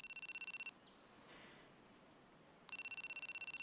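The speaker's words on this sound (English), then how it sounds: "My phone's ringtone invades my brain." A phone ringtone in the video game I/O revision II: a fast run of bright electronic pulses, then a two-second pause, then the pulses again, loud and alone.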